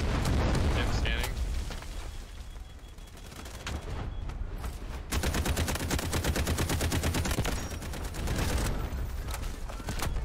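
Rapid automatic gunfire from the Delta Force shooter game, sustained fusillades with short gaps, loud and close, firing through a van, with a voice talking over parts of it.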